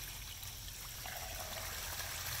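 A solar-powered fountain in a garden pond feeds a small waterfall that trickles and splashes steadily, a close, continuous wash of water with no voices.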